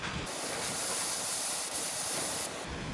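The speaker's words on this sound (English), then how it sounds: "I'm going to cut it with a hot knife." A hot knife cuts and seals nylon string, giving a steady broad hiss for about two seconds with a short break partway through. No talk.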